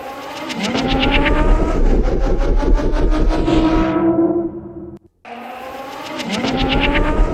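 A car engine roars loudly and steadily, its low end pumping and dipping as a compressor ducks it, cutting out abruptly near the end before the engine sound returns.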